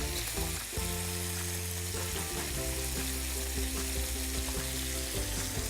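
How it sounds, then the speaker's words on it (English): Fresh chopped garlic drops into lapchang and bacon frying for fried rice, giving a loud, steady sizzle and hiss that runs unbroken throughout, with a low tonal hum sitting underneath. "we're gonna add our garlic, our fresh chopped garlic."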